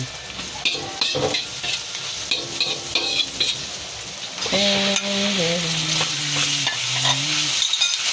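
Onion and garlic sauté in a hot pan with a constant loud sizzle and occasional utensil scrapes. Partway through, a tonal whine or hum rises over the frying.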